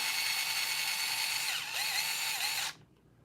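A power driver whirs steadily while spinning thread-locked screws into a Treal LMT axle assembly, a continuous high-pitched motor whine for nearly three seconds that shifts pitch briefly before cutting off.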